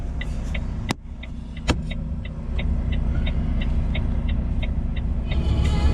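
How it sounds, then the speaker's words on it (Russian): Cars driving along a road in the dark during a snowstorm, a steady engine rumble with two sharp clicks near the start and a rhythmic faint ticking behind, with no talking. "Машинки едут."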